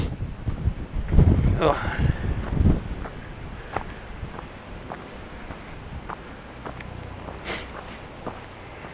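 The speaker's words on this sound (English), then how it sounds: "It's blowing a gale today." Strong gale-force wind buffets the microphone on an exposed Iron Age hill fort near Old Sodbury, with low rumbling gusts loudest early then settling into steady roar; brief footstep-like thumps and a short spoken exclamation occur.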